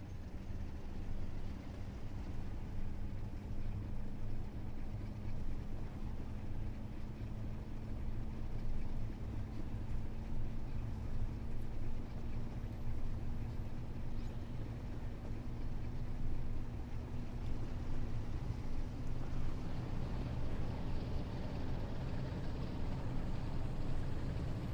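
A diesel train engine idles and runs in the Train Sim World 6 video game, a steady low droning rumble with a faint rising hum, continuous and even throughout with no talking.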